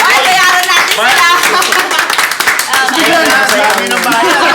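Audience clapping, with bursts of hand claps mixed under loud talk and laughter from several people close by.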